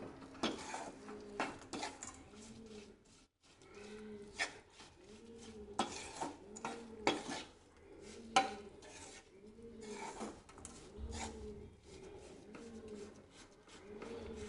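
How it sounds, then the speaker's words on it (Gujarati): A spoon repeatedly scrapes and presses jaggery into a mixture in a pan in a steady stirring rhythm, close and quiet, with soft rubbing between strokes. "આ રીતે ચમચાથી પ્રેસ કરવાનું જેથી ગોળ સારી રીતે મિક્સ થઈ જાય"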